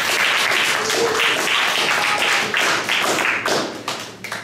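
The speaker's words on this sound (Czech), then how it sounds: "myslím, že bychom měli teď zatleskat" Audience applause at an academy gathering in Františkovy Lázně: dense, steady clapping from a crowd, continuous and fairly loud throughout, thinning slightly toward the end.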